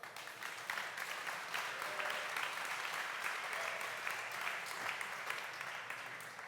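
A conference audience at a travel industry event claps in an even, sustained wash of applause heard from a distance, with no clear speech over it.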